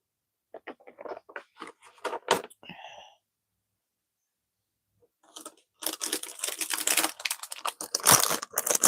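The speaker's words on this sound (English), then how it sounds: "I know that crinkling bag is annoying on the microphone" A plastic bag crinkles close to the microphone in crisp bursts of crackling, a few short rustles first, then a pause, then louder, sustained crumpling.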